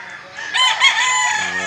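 Large white-leg rooster crowing once, loud and close, a single drawn-out call lasting over a second with a bright, strained tone.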